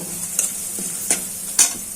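Onions fry in a pan with cinnamon and bay leaf while a spoon stirs them, giving a steady soft sizzle broken by three sharp scraping clinks, close by and with no voices.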